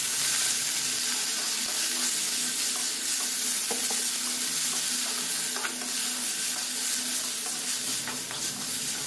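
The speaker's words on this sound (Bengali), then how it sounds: "এবার মুসুর ডাল সমেত এটাকে ভালো করে নেড়ে চেড়ে নেব।" Washed red lentils being stirred and fried with onions in a pan, a steady close sizzle with scraping stir strokes throughout, no talking.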